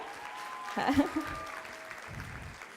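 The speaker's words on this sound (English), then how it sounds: "I want to give a round of applause" An audience at a modest fashion wear event claps briefly and moderately, the applause rising and fading under a speaker's voice.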